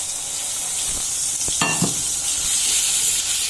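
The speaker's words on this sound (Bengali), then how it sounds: "মশলা কষানো লেগে পানি দিলাম" Spice masala for a rohu fish curry sizzles and fries in oil after a splash of water, a steady broadband hiss throughout with a few sharp stirring scrapes near the middle.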